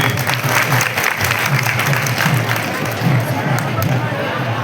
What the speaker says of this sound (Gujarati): એકવાર અમિતભાઈ માટે જોરદાર તાળીઓ પડતી